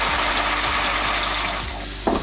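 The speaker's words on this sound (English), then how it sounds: "We're pouring in the shells." Dry pasta shells tipped into a pot of salted water, a continuous rushing, splashing pour that thins toward the end before a short clatter, heard close with no talking.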